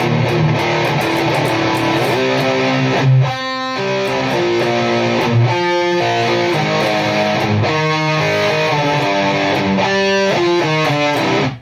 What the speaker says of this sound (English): So I'm going to arpeggiate the top 3 strings.